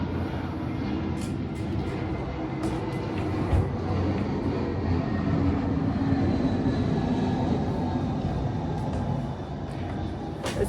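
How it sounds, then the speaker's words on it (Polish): An airplane passing overhead as a steady, broad engine roar that holds for about ten seconds at moderate distance, with faint clicks and no clear talk. "samolot"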